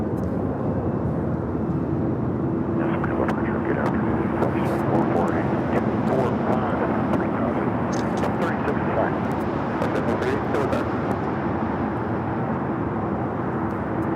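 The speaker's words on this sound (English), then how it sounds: "this 777-300ER passing by the old Terminal 5" A Boeing 777-300ER airliner passes by at LAX near the old Terminal 5, giving a steady, loud broadband jet roar that holds for the whole stretch with some wind buffeting.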